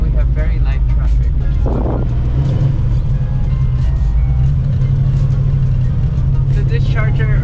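A classic Dodge Charger with an upgraded Wilwood big brake kit and an upgraded front suspension cruises in light traffic, its low engine rumble steady and loud throughout. Someone talks over it almost continuously.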